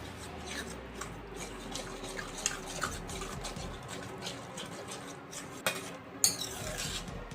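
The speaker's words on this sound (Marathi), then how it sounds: "सगळ्या भाज्या अशा एकजीव होईपर्यंत मिक्स करून घ्या" Chopped pav bhaji vegetables are stirred and mixed in a pan with a spoon, making a steady, close scraping and rubbing with occasional metallic clinks and knocks against the pan.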